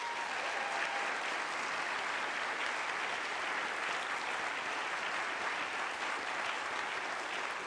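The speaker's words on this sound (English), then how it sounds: "Let's give them a round of applause." An audience at the reveal of the OSIRIS-REx asteroid sample applauds with dense, even, sustained clapping from a large crowd, steady and unbroken throughout.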